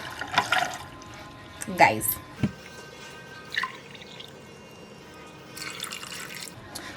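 About a cup of water is poured into a smoothie blender jar before spinach goes in, giving brief splashy trickles between stretches of nearby talk.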